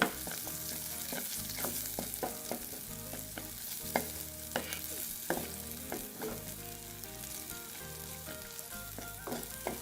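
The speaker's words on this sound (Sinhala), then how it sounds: "තෙල් ටික හොඳින් රත් වුණාට පස්සේ මේකට කපාගත්තු රතු ලුණු ටිකක් එකතු කරලා ඒ ටික හොඳට තෙම්පරාදු කරගන්න" Chopped red onions sautéing in hot oil for a bitter melon curry, a steady close sizzle punctuated by regular stirring knocks and scrapes of a spoon against the pan.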